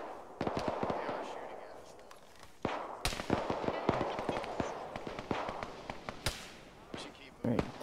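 Enemy gunfire in the military shooter ARMA 3, sharp single shots and short bursts cracking at varying distances, some loud and near, others distant, with a player talking throughout.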